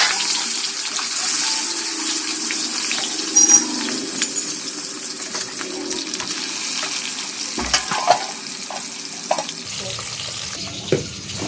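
Half a bitter gourd fries in hot oil with a continuous, bright sizzle. Occasional clinks and stirring scrapes rise above it, and the sound shifts slightly near the end.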